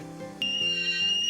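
A Bialetti stovetop espresso maker begins to whistle, giving a thin, steady high-pitched tone over a low bubbling hum that shifts in pitch, close by and fairly quiet.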